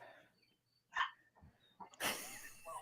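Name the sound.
dog barking in the background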